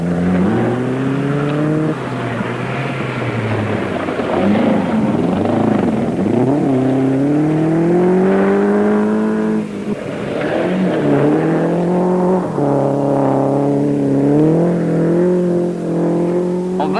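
Early-1970s rally cars driven flat-out on twisting Welsh forestry special stages, engines revving hard and shifting through gears in long, rising and falling whines, loud and close throughout.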